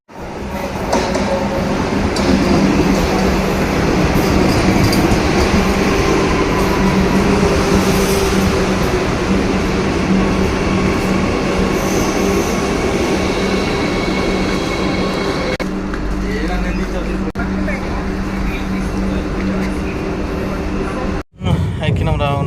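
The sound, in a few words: train running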